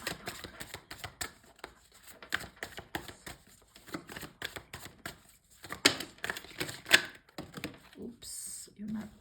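Tarot cards are shuffled and drawn in quick papery flicks and taps, with someone speaking French over much of it.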